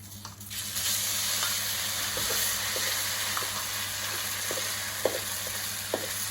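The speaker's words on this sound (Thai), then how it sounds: "เริ่มจากผัดเครื่องแกงครับ" A steady sizzle of Thai curry paste stir-frying in a pan, with occasional scraping and stirring taps against the metal.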